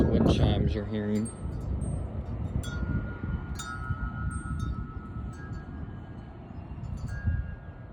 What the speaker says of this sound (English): This is wind chimes you're hearing.